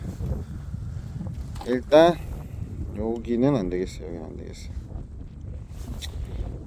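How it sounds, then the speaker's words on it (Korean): Low, steady wind rumbles and buffets against the microphone throughout while someone talks over it, outdoors while fishing for black sea bream. "바람소리 들리시는가 모르겠는데"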